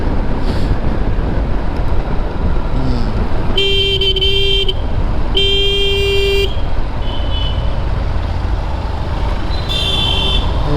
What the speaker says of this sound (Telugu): ఇప్పుడిప్పుడే కంపెనీ బస్సులన్నీ తిరుగుతున్నాయి.